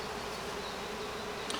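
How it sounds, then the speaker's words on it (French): An agitated honeybee swarm hums inside a hive after a colony split, a dense, continuous buzzing close by that holds steady, with no talk. "j'entends que ça vrombit, je ne sais pas si vous l'entendez, mais là, clairement, l'essaim est assez énervé"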